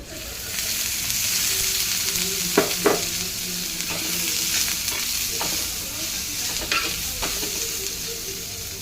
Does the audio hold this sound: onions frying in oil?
yes